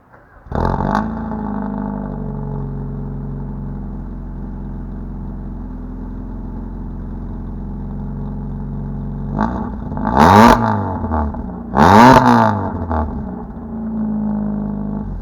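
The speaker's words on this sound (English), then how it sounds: "I'll just crank it up. I'm not gonna rev it because it's been sitting here. It ain't warmed up. So let me set it down and I'll give you a rev." A Mazda Miata engine, cold after sitting, cranks and catches, then settles into a steady idle before two sharp revs blip up and fall back near the end.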